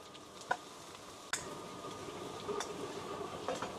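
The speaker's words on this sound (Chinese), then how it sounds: "在这时候可以把刚才准备好的尖椒一块倒入，爆香。" Green chilies stir-frying with scallion, garlic slices and a little minced ginger in hot oil, a soft sizzle that jumps louder as they land, with sharp spatula clicks against the wok, quiet and without talk.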